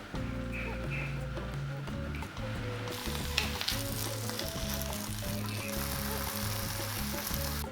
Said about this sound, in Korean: 양배추를 살짝 볶은 후 코코넛 밀크 15ml를 넣고